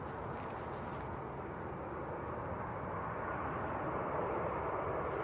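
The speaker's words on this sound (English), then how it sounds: "Ryanair taxiing out and a Ryanair on finals." A Ryanair airliner taxis at Manchester Airport, a steady low engine rumble and hum heard from a distance, continuous and unvarying throughout.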